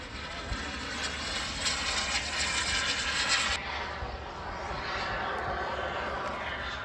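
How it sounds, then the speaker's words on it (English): An electric ducted-fan model jet flies over an outdoor airfield where real turbine models also fly, making a steady loud whooshing roar that shifts in tone partway through as it passes. "That's an electric ducted fan there, jet."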